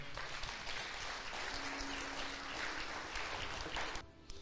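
A church congregation applauds during a sermon: sustained, fairly full clapping from the room that carries on steadily, with a faint sustained tone underneath, before cutting off near the end.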